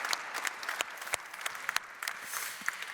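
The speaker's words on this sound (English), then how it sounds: "Let's round of applause" Audience applause after a panel discussion on corporate renewable energy deals, a modest, fairly quiet patter of clapping with distinct individual claps standing out.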